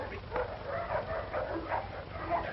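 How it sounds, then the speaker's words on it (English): A dog whimpers and gives short yipping barks in a repeated, uneven pattern, moderately faint against a low background hum. "Sorry about the dog, Sergeant."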